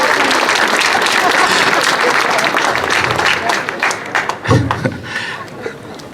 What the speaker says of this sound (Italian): ci facciamo un applauso